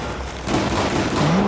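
Rapid automatic gunfire from a full magazine being emptied in Battlefield 4 Second Assault on PS4, a loud continuous burst of shots filling the whole moment, with no talk over it.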